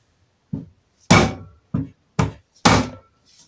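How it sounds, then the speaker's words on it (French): A mallet strikes during a restoration job, five sharp, close, loud knocks at uneven intervals with near-silence between them and no talking. "Maillet, là j'ai le maillet, pas le marteau."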